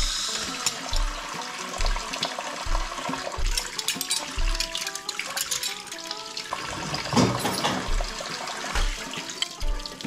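Water running from a tap into a kitchen sink while dishes are washed up at home, a steady splashing stream with occasional clinks and low thumps throughout.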